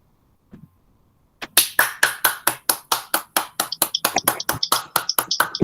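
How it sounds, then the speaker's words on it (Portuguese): Steady rhythmic clapping from a small group, about twenty sharp even claps at a brisk pace following a brief quiet moment, close and clear with no talk over it. "Palmas para nossa Chicória com a sua história"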